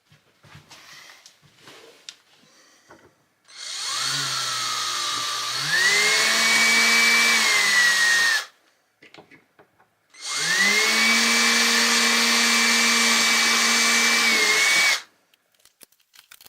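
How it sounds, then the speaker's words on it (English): A power drill bores pilot holes for screws inside an RV, two sustained whining bursts of several seconds each, close and loud, separated by brief quiet pauses with faint handling noises. "just drilled a couple pilot holes just so the screws would fit in there properly"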